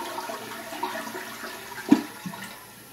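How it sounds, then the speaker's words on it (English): A 1997 Cisa toilet flushing, with a sharp burst of rushing water near the middle and lighter swirling water around it, close by in a small room with no speech. "I'll just give this bad boy a flush."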